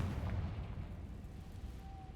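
A Confringo blasting spell explodes in Hogwarts Legacy, a deep booming rumble that starts loud and fades gradually over about two seconds.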